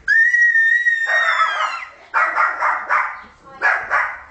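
A dog barks in a rapid run of loud, close yelps and woofs, preceded by a sustained high whistle-like tone; the barking comes in several quick bursts, with people talking nearby.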